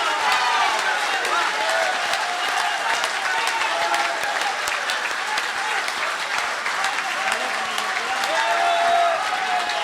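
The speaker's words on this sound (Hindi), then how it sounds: "ऐसे ओज के कवि का आप खड़े होकर और ताली बजाकर स्वागत" A packed audience claps steadily and loudly for a heroic-verse Hindi poet, Kavi Yogendra Sharma, at a poetry recital. The applause is dense and continuous for the whole stretch, with a murmur of crowd noise mixed in.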